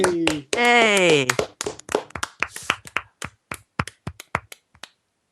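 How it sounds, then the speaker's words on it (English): Hand clapping from one person in a casual talk-show setting: a series of sharp, uneven claps following a burst of singing and talk, tapering off into silence. "Are you clapping yourself?"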